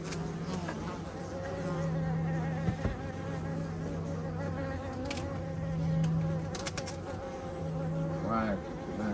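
A dense, close drone of many honeybees buzzing at once around a young hive in Devon, rising and falling in pitch as individual insects pass near.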